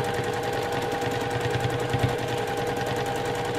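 A sewing machine free-motion quilting a continuous-line design on flying geese blocks, running steadily at speed with a fast, even needle rattle and motor hum, close and unbroken.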